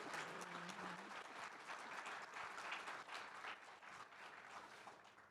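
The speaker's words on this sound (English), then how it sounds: "give them an applause." Conference audience at a keynote session breaking into steady applause, a dense wash of many hands clapping throughout at moderate distance.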